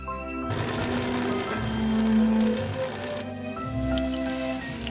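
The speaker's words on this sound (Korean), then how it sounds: "불포화 지방산이 풍부한 도다리에 해산물을 넣고 갈아줍니다" A food processor grinds flounder with seafood, its motor whirring steadily and close, with wet churning and sloshing from the mix and a brief dip in tone partway through.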